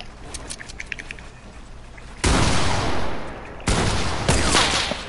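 Bursts of gunfire from a shooting video game, two loud broadband volleys in close succession after a quieter stretch, sounding like rapid automatic fire.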